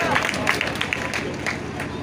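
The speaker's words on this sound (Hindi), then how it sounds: "तालियां बजा दीजिए।" Audience at a Meerganj mushaira poetry gathering clapping in a brief burst of applause, dense hand claps mixed with crowd murmur and voices.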